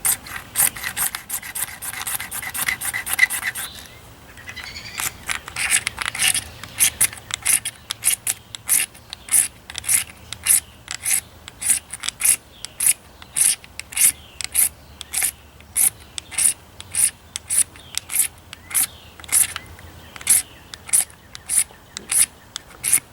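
A steel striker scrapes a magnesium fire starter bar in a long run of rapid, evenly spaced rasping strokes, close and crisp, after a brief rougher scrape at the start.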